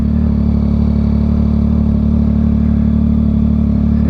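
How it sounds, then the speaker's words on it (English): A motorcycle engine idles close and loud with a steady, even throbbing rumble that holds unchanged throughout. "It's the bike, bro."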